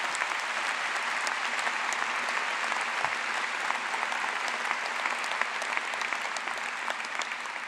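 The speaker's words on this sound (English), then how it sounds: "That's worth an applause itself." A large crowd of new students applauding at a university convocation: sustained, even clapping from a big hall, steady and fairly loud from start to finish.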